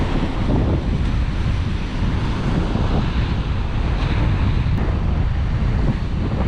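Steady roaring ocean surf on a beach along the Heysen Trail, heavy with wind buffeting the microphone and no voices.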